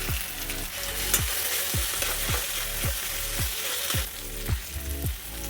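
Green peas and ginger-garlic paste fry in hot oil in a wok, a loud, close, constant sizzle broken by regular rhythmic scrapes of a spatula stirring about twice a second.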